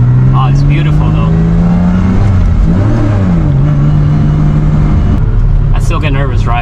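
A Porsche with a manual gearbox and a wobbly shifter, its engine droning steadily with pitch shifts through the middle as it moves through gears, loud and close throughout; a person speaks briefly over it.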